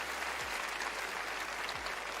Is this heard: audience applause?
yes